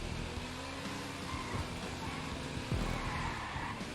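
A BF 400 motorbike sliding and drifting in GTA Online, engine drone with scraping tire skids and a sharp squealing slide near the end, moderately loud with no speech.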